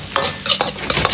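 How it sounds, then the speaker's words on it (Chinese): Hot pot base is stir-fried in a wok with chili sauce, ginger and garlic for spicy shrimp, giving loud, close scraping strokes in quick bursts over a steady oily sizzle. "少许的火锅底料，炒香，炒出红油。"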